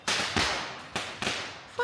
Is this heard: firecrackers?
yes